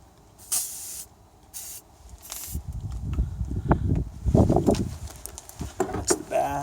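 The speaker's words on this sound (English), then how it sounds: "sprayed on the bolts, loosen them up" Lubricant spray hisses from a can in several short bursts onto the leaf spring bolts of a 2002 Nissan Xterra, followed by scraping and shuffling movement close by.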